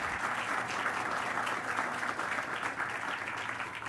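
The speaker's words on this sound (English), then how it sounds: "Let's give them a big round of applause." Audience applause at a groundbreaking ceremony for a new Chemonics International headquarters, a dense, steady wash of many hands clapping, fairly distant and even throughout.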